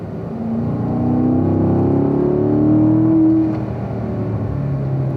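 Race car engine on a track at Spring Mountain Raceway, a steady close engine drone that rises in pitch as the car accelerates, then drops and settles as it shifts up to fourth gear.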